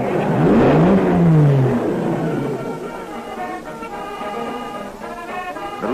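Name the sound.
Jaguar race car accelerating away at Le Mans 1953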